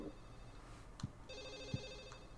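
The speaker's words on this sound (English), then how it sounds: "Find the phone ringing." A telephone rings in the survival horror game Silent Hill 4: The Room, a faint, tinny electronic trill in short bursts over a low hum, with no one talking.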